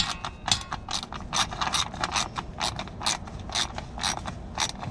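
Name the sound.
ratchet with 10mm deep socket loosening a bolt on a 2006 Acura TL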